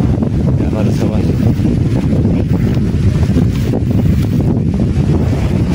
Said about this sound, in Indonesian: anginnya semakin kencang